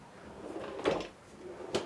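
A drawer under a bench slides open or shut aboard a Dehler 46 sailboat, two soft wooden thumps with a brief rolling rumble between them, close and quiet with no talking.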